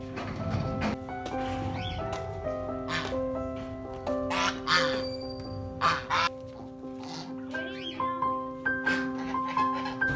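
Ducks quack repeatedly in short bursts among turkeys, chickens and peacocks, with a steady hum and scattered clatter in the background.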